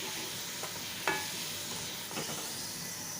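Wheat poori deep-frying in hot oil: a steady soft sizzle throughout, with a few brief louder crackles and stirring sounds, close and fairly quiet, with no talking.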